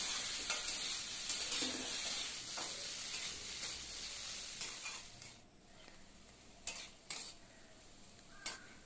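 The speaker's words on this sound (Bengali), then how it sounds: "এবার সবটা আমি ভালো করে নেড়ে নেব।" Bitter gourd and potato curry being stirred in a pan, with steady close sizzling and spatula scrapes, then a quieter stretch broken by a few sharp metallic clinks near the end.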